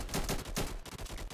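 Rapid burst of gunfire in an online video game shooter, several sharp shots fired in quick succession, loud and close with no talking.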